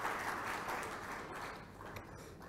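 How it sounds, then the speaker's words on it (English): Audience applause at an inauguration and planning meeting, a steady broadband patter of many hands clapping that fades slightly over its short span, with no talk over it. "A round of applause to her"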